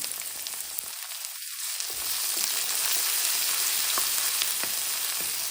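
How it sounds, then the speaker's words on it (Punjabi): Finely chopped onion fries with ginger and garlic in a pan over medium heat, a steady close sizzle that grows fuller after a brief dip, with occasional crackles. "ਮੀਡੀਅਮ ਸੇਕ ਤੇ 2 ਮਿੰਟ ਤੱਕ ਅਸੀਂ ਪਿਆਜ਼ ਨੂੰ ਭੁੰਨਣਾ ਹੈ"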